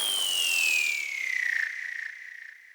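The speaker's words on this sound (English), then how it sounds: "We got two swishy downers." A swishy downer effect from Logic's Arrangement FX sweeps downward in pitch as a breathy, airy whoosh lasting under three seconds, fading gradually toward the end.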